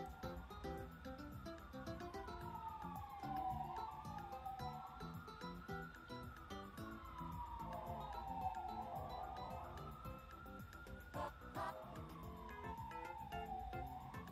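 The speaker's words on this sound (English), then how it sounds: "I don't know if you hear the ambulance, y'all." Ambulance siren passing outside, a wailing tone that sweeps slowly up and down through several cycles, faint and distant under a busy background of clatter and noise.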